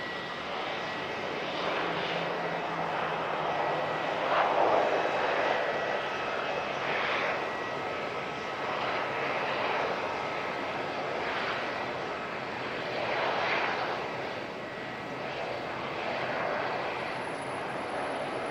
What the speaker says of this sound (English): Another fast taxi from Qantas.